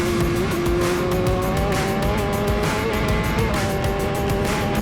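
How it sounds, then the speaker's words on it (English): Racing motorbikes scream past flat out at Glen Duff on the TT course, a loud, continuous high-revving engine whine with a shifting pitch, heard close and without pause. "the marshalling point, where the bikes are going flat out"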